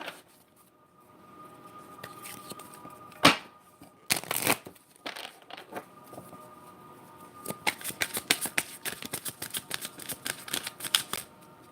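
A deck of Enchanted Map oracle cards is riffled and shuffled in quiet surroundings, with several crisp fluttering bursts early on and then a longer run of rapid card flicks near the end.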